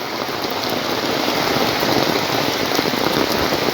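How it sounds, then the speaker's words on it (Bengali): A loud, steady downpour of heavy rain in Cumilla, with a thick, continuous patter and hiss close by that never lets up, and no talking. "বৃষ্টির সাগর দেখো কিভাবে বৃষ্টি পড়ছে"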